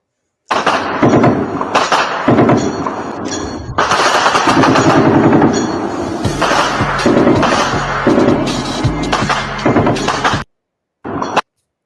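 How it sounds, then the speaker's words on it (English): Nighttime gunfire mixing small arms with a .50 caliber machine gun: loud rapid bursts and sharp cracks, near and echoing, stopping abruptly near the end before one final short burst. "that's some of the nighttime gunfire that he was referring to"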